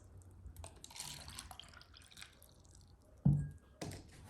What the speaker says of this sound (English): measure 150 milliliters of water and add it to each of my 4 cups